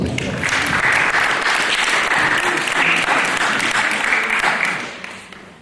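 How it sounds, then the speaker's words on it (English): A crowd at a hypnotist show applauds loudly and steadily, a dense clapping that holds for several seconds before tapering off at the end. "Let's give him a big round of applause"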